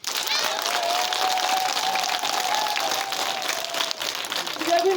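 Dense, steady applause from a school audience at an awards ceremony for students who passed national exams, loud and sustained for several seconds with a busy crowd texture.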